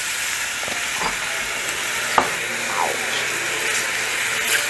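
Braised pork browns in a hot pan with a steady, broad sizzle and frying hiss throughout, broken by a few soft clinks and scrapes from a utensil stirring and turning the meat.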